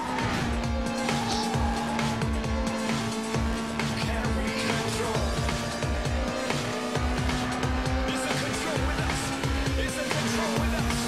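A race car in Need for Speed Most Wanted runs at high speed with a loud, sustained engine drone and repeated rising gear-shift sweeps, set against game music and effects.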